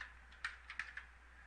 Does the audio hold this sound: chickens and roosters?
no